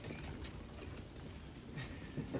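A dolapçı tumbler pigeon bought at a bird market gives faint, soft calls, barely rising above quiet background hiss.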